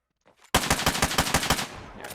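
Rapid automatic weapon fire from Skyborn Chronicles, a tight burst of about ten sharp evenly spaced shots, loud and close, preceded by faint clicks and followed by a short tail of noise.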